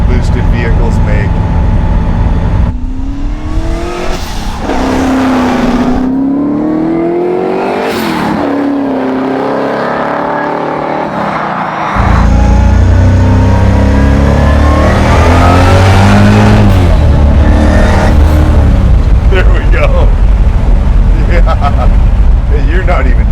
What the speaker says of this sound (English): I love all the different sounds that boosted vehicles make.